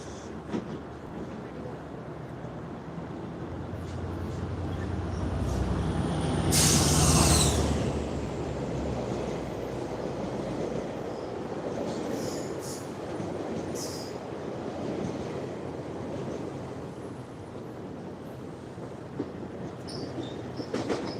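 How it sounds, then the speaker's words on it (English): A GO commuter train rumbles past at a distance in Toronto, its noise swelling briefly in the middle, then settling into a steady low rail drone. "if you look on the right, there's another train coming"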